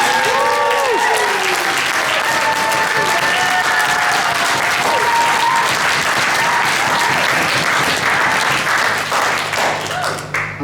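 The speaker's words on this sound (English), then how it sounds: "another round of applause for the incredible job she's done" A room full of wedding guests claps enthusiastically during speeches for several seconds, with a few cheers and whistles mixed in, tapering slightly at the end.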